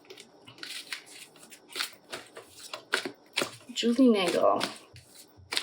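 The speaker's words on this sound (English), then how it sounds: "I'm gonna shuffle" A regular deck of cards is shuffled close by, with a brief burst of riffling and rustling card noise, while a person keeps talking over the shuffling and around it.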